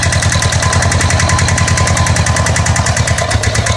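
A Honda Goldwing GL1100 motorcycle engine runs with a steady, fast mechanical rattle, loud and close, continuous throughout with no talking.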